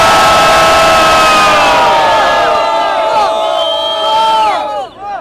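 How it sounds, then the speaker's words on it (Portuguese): A large crowd cheers and shouts loudly together, a sustained roar of many voices that swells and then fades out. "Só quem gostou do Cepante, faz barulho aí, Botafogo"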